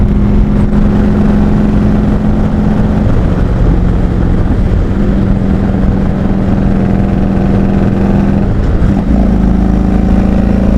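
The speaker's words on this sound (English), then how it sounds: "This wind is blowing so freaking hard." Strong wind roars steadily over a rider during a motorcycle ride in Rhode Island, a loud continuous buffeting mixed with the droning engine, with no talk.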